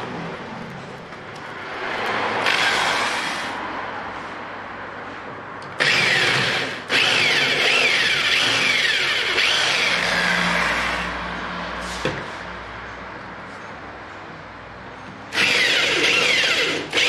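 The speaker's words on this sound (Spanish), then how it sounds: "Nos habéis dicho quitar esto cortando los remaches" A power drill cuts out the rivets of a 2009 Peugeot 308 front right window regulator. Loud, sustained whining runs in several long bursts with short gaps, and the pitch rises and falls as the bit bites into the metal.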